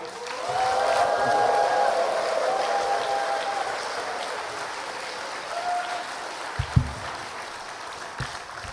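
Church congregation applauding and cheering to welcome a pastor at a Chuncheon mission service, a dense wash of clapping that peaks early and gradually thins, with a few scattered claps and bumps as it dies away.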